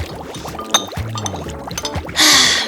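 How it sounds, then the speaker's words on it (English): Vinegar reacting with an egg in a home science experiment, giving a close, busy run of wet fizzing and bubbling with small clinks, then a louder hissing burst of fizz toward the end. "The next step is just waiting for the vinegar to work. It's definitely bubbling a lot."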